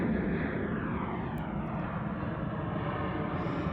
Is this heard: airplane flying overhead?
yes